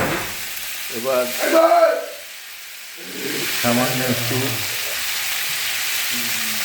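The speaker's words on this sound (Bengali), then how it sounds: "কড়াইতে তেল দিয়ে তার মধ্যে চিংড়ি মাছ দিয়ে" Prawns frying in oil in a wok (kadai), a steady sizzle beneath a speaking voice, dropping away briefly in a short quiet gap before resuming.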